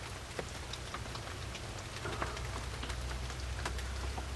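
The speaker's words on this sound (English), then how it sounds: "It's raining right now." Rain falls steadily on a hunting box blind, a dense, even patter with scattered individual drops striking the surface close by, continuous and fairly quiet with no talking.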